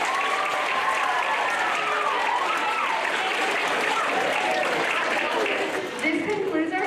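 Students clapping for veterans at a school Veterans Day ceremony, a loud sustained wash of applause from a large crowd with excited voices and cheers mixed in throughout.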